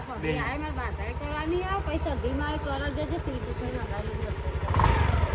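A motor scooter, an Activa, hums steadily nearby under continuous talking, with a brief louder rev near the end.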